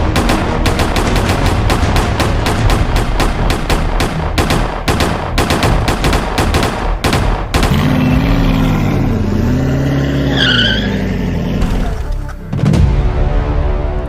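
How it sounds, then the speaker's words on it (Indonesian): Rapid bursts of gunfire crackle loudly and densely in an animated drama about a gang of street robbers, then give way to a roaring, revving engine and vehicle noise. "Kok ada suara tembak-tembakan sih di dekat sini."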